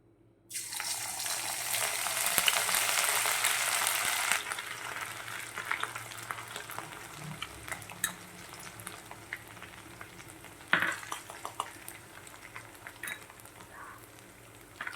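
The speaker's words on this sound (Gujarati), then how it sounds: "આપણું તેલ ગરમ થઈ ગયું છે તો તેમાં આપણે વાટેલા આદુ મરચાં નાખી દઈશું" Crushed ginger and green chili paste drops into hot oil and gives a loud, bright sizzle that rises at once, then settles into a softer, steady crackle with occasional clinks.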